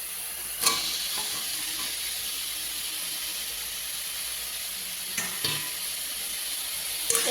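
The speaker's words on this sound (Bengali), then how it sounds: "এই মাশরুমের সাথে মশলাটা ভালো করে কষিয়ে নেব।" Boiled mushrooms sauté in a spice masala with a continuous close sizzle and hiss, cut by a few brief scraping stirs of a spatula; no speech.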